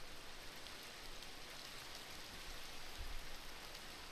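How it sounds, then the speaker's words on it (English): Rain falls in the Minecraft video game as a steady, soft hiss with no breaks. It sounds faint, like a distant downpour. "Oh, man, it's pouring down rain."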